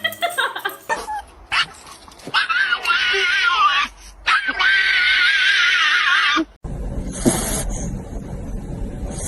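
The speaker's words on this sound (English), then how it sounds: "Don't growl at me." A dog lets out high, wavering whines and yelps with some growly sounds, in loud bursts spread over several seconds, and a burst of harsher noise follows near the end.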